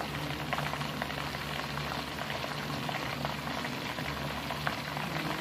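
Chicken deep frying in oil on its first fry, giving a dense, steady bubbling sizzle that stays even and continuous throughout, close up with no other sounds.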